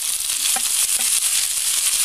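Onions that have fried to light golden brown hiss loudly and constantly in a pan as tomatoes are added for paneer malai kofta gravy, with a couple of faint knocks underneath; no talking.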